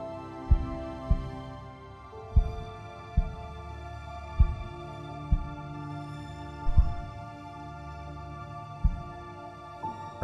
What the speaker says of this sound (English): Heartbeat slowly going.